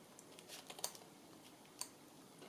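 Blunt scissors snip across the top of a paper bag in a quiet room, with faint, sparse clicks and rustles of blade and paper, no voices.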